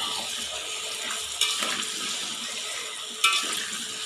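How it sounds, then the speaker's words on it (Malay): Sweet potatoes frying in oil in a pan, a steady low bubbling sizzle with two sharper bursts partway through, no voices. "Kita goreng sampai dia empuk."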